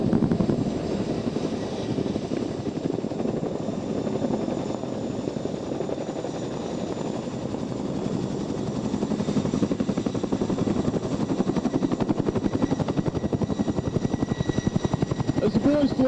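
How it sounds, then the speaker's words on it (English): At the 2007 Waddington Airshow, a Chinook helicopter swings its rear end around for a quick stop, giving a loud, continuous, pulsing rotor roar that holds steady throughout. "Watch as the back end of the Chinook swings around for a very quick stop on the spot."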